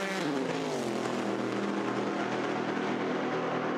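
Le Mans endurance race cars in the GTE Pro class roar past on the run toward Mulsanne, a loud, steady engine drone with a falling pitch sweep as a car goes by.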